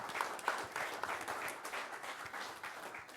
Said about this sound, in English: So I'm going to ask you again to give a round of applause.